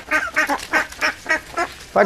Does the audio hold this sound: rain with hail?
no